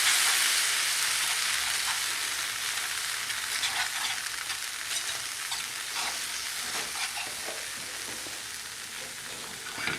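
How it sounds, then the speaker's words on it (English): Reduced liquid whisked into a roux in a pot while making chicken fricassee, a continuous bubbling sizzle with soft scraping strokes, steady and close, fading slightly over time. "now I'm going to start whisking in some of that reduced liquid that we have"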